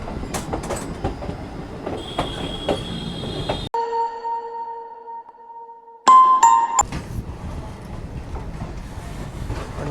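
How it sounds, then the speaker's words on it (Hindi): A train pulls out of Rampurhat Junction railway station, with rumbling wheels and clatter near by, broken by a stretch of steady tonal hum and a brief sharp squeal before the rolling noise returns. "तो हम फाइनली डिपार्ट कर रहे हैं फ्रॉम रामपुर हाट जंक्शन"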